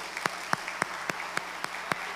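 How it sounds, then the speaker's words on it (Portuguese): A church congregation claps at a steady, even beat of about four claps a second, each clap sharp and distinct over a quiet room, with no talking. "Você pode aplaudir o Senhor em nome de Jesus?"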